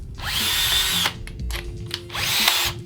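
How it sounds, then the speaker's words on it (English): Power drill chewing out wood in an electric octave mandolin body, two long loud whirring bursts separated by a short gap of clattering and handling noise, close and without voices. "So now I can just take my drill and I can shock away as much as I can"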